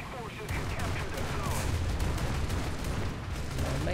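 Naval guns firing in War Thunder, a steady barrage of heavy booms and crackling shots blending into a dense rumble, with a voice talking underneath.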